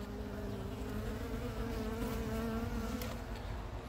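Honeybees at an opened hive make a dense, continuous, close buzzing drone with a steady hum throughout and no talk.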